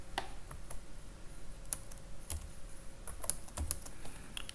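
Typing on a computer keyboard while writing code, soft irregular key clicks with a few sharper taps, quiet and close, with no talk.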